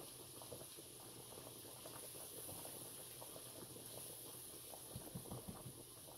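Pasta noodles boiling in a pot of water give a soft, steady bubbling hiss with small irregular pops, faint and close, with no talking.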